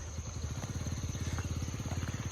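A motorcycle engine runs steadily in a Pakistani village, a close, rhythmic low putter with a continuous idling pulse throughout.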